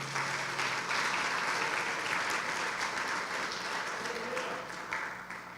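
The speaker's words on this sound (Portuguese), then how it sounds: "Aplauda o Senhor" Church congregation applauding together during a sermon, dense sustained clapping from a large crowd that holds steady and thins slightly toward the end, with no voices over it.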